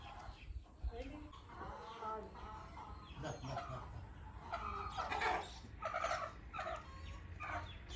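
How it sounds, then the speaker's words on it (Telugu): Country chickens and fighting roosters cluck and squawk in repeated irregular bursts at close range, with people talking faintly in the background. "ఆ రెండు పుంజులు పందెం పుంజులు అనమాట"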